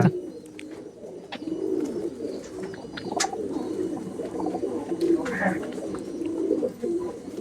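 Madrasi pigeons in a loft coo in soft, rolling bursts close by, with scattered clicks and rustles and some talk mixed in.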